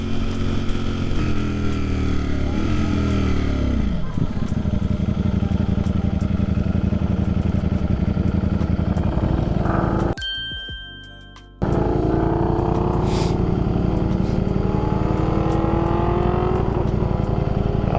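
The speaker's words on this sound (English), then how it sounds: "That bike sounds so good." Ducati Panigale V2 engine, loud and close throughout, sweeping up and down through the revs, then cutting out briefly before roaring back at steady high revs.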